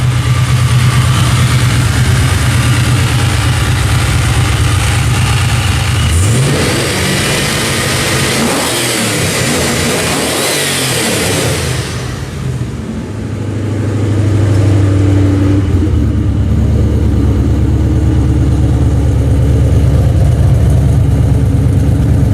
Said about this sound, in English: And that exhaust has quite a unique tone to it.